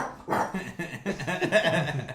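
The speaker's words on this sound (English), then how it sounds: "What you barking at? Who you barking at? You barking at our guests?" A dog barks several times in quick, uneven bursts close by indoors, sharp yips and woofs running together over about two seconds.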